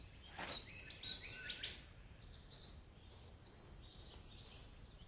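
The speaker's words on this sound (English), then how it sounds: "His loud calls alert nearby females to his presence." A male bird of paradise in Australia gives loud calls, a few sharp whistled notes followed by a series of softer repeated tones, heard faintly against a quiet background hiss.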